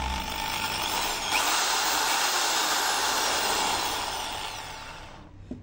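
A Stanley power drill whirs steadily at a low, even speed, loud and close, then winds down and stops near the end.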